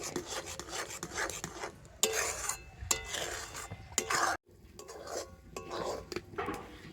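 Semolina scraped and stirred in a pan over low heat, a rough rasping rhythm of utensil against metal in repeated strokes with brief pauses, close and fairly quiet.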